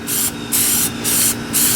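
Plasti Dip aerosol spray coating a wheel rim, three close, loud hissing bursts of roughly half a second each, separated by short pauses, with no talking.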